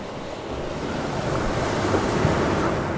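Steady roar of sea waves washing in, a continuous broad rush with wind buffeting the microphone, loud and close, no voices.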